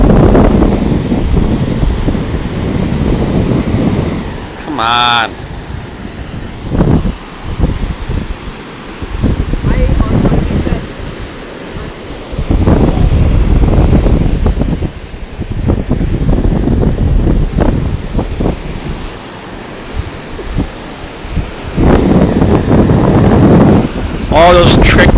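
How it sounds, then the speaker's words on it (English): Ocean waves surge and break at a beach while strong wind buffets the microphone, loud rolling washes rising and falling, with brief speech partway through. "I want the waves to do it."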